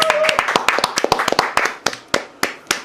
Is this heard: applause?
yes